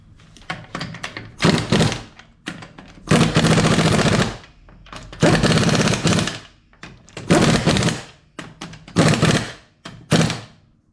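Pneumatic impact gun tightening the wheel nuts, including the locking nut, on a 2010 Vauxhall Corsa SXi 1.2 petrol in a home garage: five or six loud, close rattling bursts, each about a second long, separated by short pauses.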